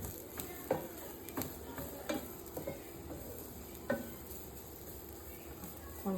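Grated carrots for halwa sauté in a pan with a soft background sizzle and scattered scraping taps of a spoon, fairly quiet and close, with no talking.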